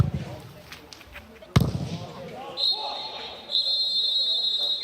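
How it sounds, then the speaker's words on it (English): A referee's long, shrill whistle signals half-time at a DFB-Pokal football match between SV Elversberg and Borussia Mönchengladbach, sounding in two sustained blasts over stadium crowd noise after a sharp thump, with commentary nearby. "Half-time whistle blows."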